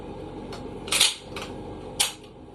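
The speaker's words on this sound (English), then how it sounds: "we're going to go ahead and clear the weapon real quick. Empty magazine tube and empty chamber" A 1984 Mossberg 500 pump-action shotgun is cleared, its magazine tube and chamber emptied, with two sharp metallic clacks of the action about a second apart over faint background noise.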